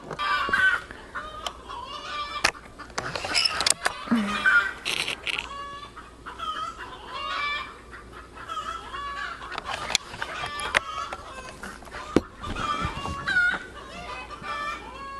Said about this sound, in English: I guess the chickens are going to lay some eggs while I shoot.